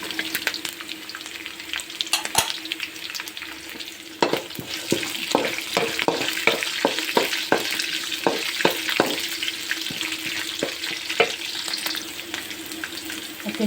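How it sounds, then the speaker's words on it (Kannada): Onion and garlic frying in a pan for drumstick leaf chutney, a steady loud sizzle broken by repeated sharp scraping and clinking stirs against the pan. "ಚೆನ್ನಾಗಿ ಫ್ರೈ ಮಾಡ್ಕೋಬೇಕು."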